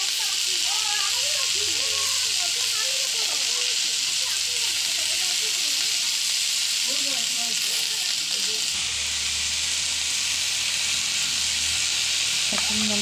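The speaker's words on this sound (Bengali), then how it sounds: "নেড়ে চেড়ে ভালো করে কষিয়ে নেব।" Turmeric, salt and spices sizzle steadily in hot oil while being stir-fried for a village-style rohu fish curry, a broad continuous hiss throughout with occasional stirring scrapes and faint background voices.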